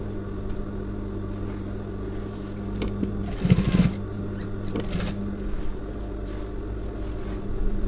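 A sewing machine stitches a shirt collar, its steady mechanical hum running continuously with a brief louder burst of rattling in the middle, close and fairly loud.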